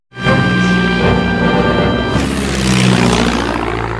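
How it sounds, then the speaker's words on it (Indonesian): Propeller aircraft in a war film set on Mount Tapochau in World War II, a loud steady engine drone that swells and shifts in pitch over about four seconds, heard alone without any talk. "Bahkan mereka juga mengerahkan sebuah pesawat."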